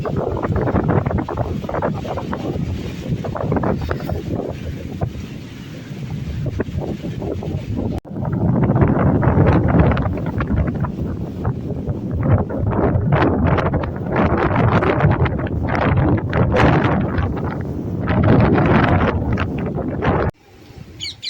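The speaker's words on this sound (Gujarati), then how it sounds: "ખતરનાક વાવાઝોડું પવન ચાલુ છે" Strong gusty wind roars and buffets the microphone continuously, with a rushing, turbulent broadband noise that swells louder midway through.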